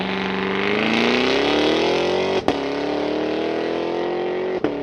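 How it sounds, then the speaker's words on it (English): A 2023 Cadillac Escalade V with a 6.2-liter supercharged V8 launches hard on launch control, its engine note climbing loudly and steadily. Two brief upshifts break the roar before it pulls on again. "'23 Cadillac Escalade V With unofficial, official launch control."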